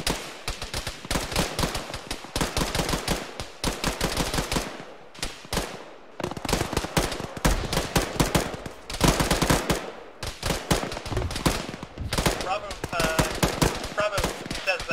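Sustained gunfire in the military shooter Arma during a ShackTac squad firefight: loud, close bursts of rapid automatic shots with brief pauses between volleys, crackling continuously for fifteen seconds, with faint radio voices occasionally underneath.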